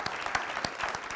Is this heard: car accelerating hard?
no